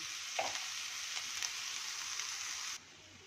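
Vegetables frying in a pan with salt, a bright even sizzle with a few stirring clicks, close and steady, then cutting away abruptly near the end.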